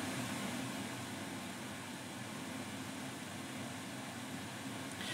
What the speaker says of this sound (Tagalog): Electric fan, maingay dyan.